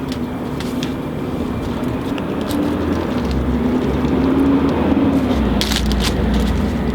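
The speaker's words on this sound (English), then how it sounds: "Sorry about the traffic." Suburban road traffic passes nearby, a steady low rumble of vehicles that swells louder toward the end, with faint clicks and no talking.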